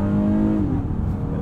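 Heard from inside the cabin, a 2021 Honda Odyssey Elite with a 3.5-liter V6 accelerates hard, its engine note loud and rising before a brief drop around an upshift, then pulling on again.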